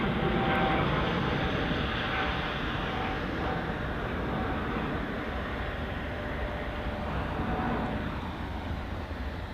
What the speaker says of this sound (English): the KLM A321neo that arrived a short while ago,